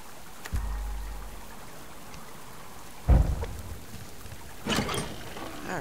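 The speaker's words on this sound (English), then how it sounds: "we got home in good time, because it started raining" Steady rain falls outdoors while deep rumbles of thunder roll in three times, the middle crack loudest and close, the others lower and farther off, with no talking.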